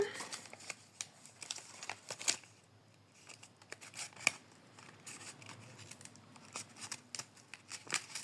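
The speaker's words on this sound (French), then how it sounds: "Je vais prendre un ciseau." Scissors snip repeatedly up close, crisp quick cuts with paper rustling in between, quiet overall.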